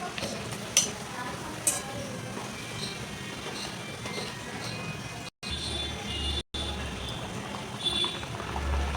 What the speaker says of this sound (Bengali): একই রকম করে সব নিমকিগুলোই ভেজে নিচ্ছি বন্ধুরা